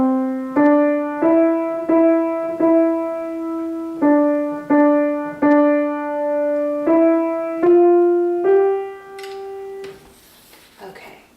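Opening four measures of the beginner tune Little Black Lamb played at full speed on a single melodic instrument, a steady run of clear plucked or struck notes, each decaying before the next, with a faint noisy tail at the end.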